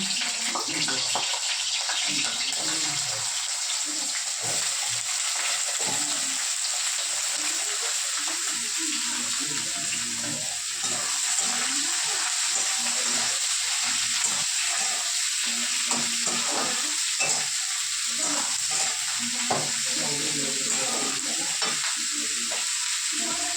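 Eggplant, potato, flat beans, beans and carrot fry hard in oil with a dried chilli and cumin tempering, making a loud, continuous hiss and crackle that holds steady throughout, with occasional stirring underneath.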